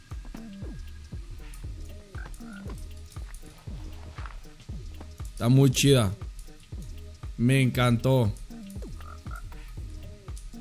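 Frog croaking in a video game, where a frog has turned up in the player's base: repeated rhythmic croaks run throughout, with someone talking over them in Spanish in two louder bursts.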